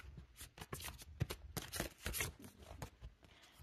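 A package of Harry Potter stickers being opened up close, with a series of crisp, irregular crinkling and tearing rustles of plastic and paper, fairly faint, with no speech.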